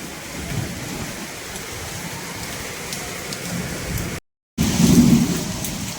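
Steady heavy May downpour in Pune with low rumbling thunder throughout, a brief total dropout, then the rain and rumble return louder.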